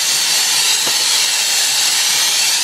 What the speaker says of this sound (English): We're going to fire her up here.